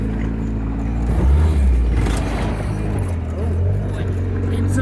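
A Jeep rock crawler rumbles and jostles over a bumpy rural road, a close, steady low engine drone with rattles and thumps, while a person talks over it.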